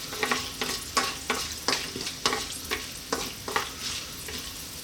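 Mustard seeds and dried red chili frying in hot oil for a vegetable biryani, a loud, steady sizzle broken by regular scraping stirs about twice a second, heard close up with no talking.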